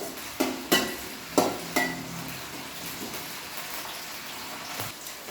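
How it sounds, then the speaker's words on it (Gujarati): Potatoes frying in oil over a full flame, a quiet continuous sizzle broken by several sharp clinks and scrapes of a spatula stirring in the pan. "પહેલાં આ રીતે આપણે બટાકા તેલમાં સસલાઈ લઈશું"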